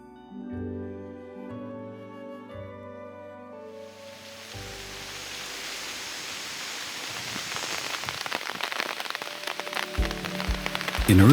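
Rain falls steadily and grows heavier, a broad hissing patter on surfaces that follows a fading stretch of soft music.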